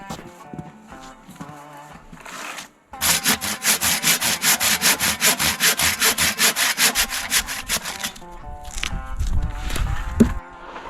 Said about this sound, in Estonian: aga muudkui sae ja sae. Ikka on jae. Et ikka peab saagima.